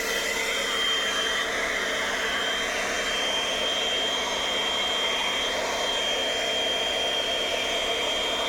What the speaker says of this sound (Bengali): চুলটা আমি ড্রাই করে নিলাম